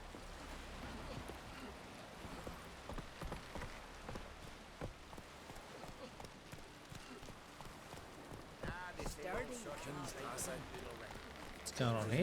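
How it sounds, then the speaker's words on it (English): Horse hooves clip-clop in Witcher 3, a steady run of soft hoof falls under rain-like ambience, growing busier toward the end, with someone talking over it. "Oh, this is some random horse."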